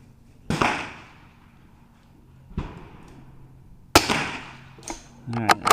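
Sharp .22LR rifle shots at an outdoor club benchrest match, three separate cracks spaced a couple of seconds apart, close and loud, with a brief clatter at the end.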